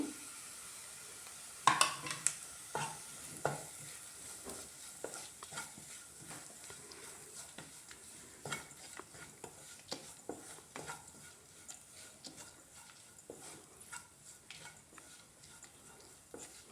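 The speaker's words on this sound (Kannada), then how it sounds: "ತೆಂಗಿನಕಾಯಿ ಹಾಕಿದ್ಮೇಲೆ ಒಂದು 10 ನಿಮಿಷ ಚೆನ್ನಾಗಿ ಫ್ರೈ ಮಾಡ್ಕೊಳ್ಳಿ." Grated coconut being stir-fried in a pan while preparing a breakfast dish, with a steady soft sizzle and repeated scraping, clinking stirs of a utensil against the pan, close and without talk.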